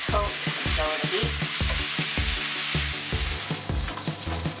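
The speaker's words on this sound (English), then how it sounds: "I'm gonna add in the rice. And I'm just gonna coat it." Rice is stirred and tossed in a hot pan, sizzling steadily with a regular rhythm of scraping strokes and thumps, close and loud with no talking.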